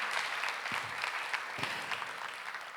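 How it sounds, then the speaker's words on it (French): An audience applauds at a conference on cancer nursing, giving steady, moderately quiet clapping from many hands that continues evenly for the whole stretch, with no one speaking. "On vous applaudit."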